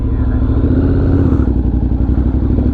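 A Honda X-ADV750 motorcycle being ridden, its engine giving a loud, close, steady low throb and rumble with slight clatter throughout, no talk over it.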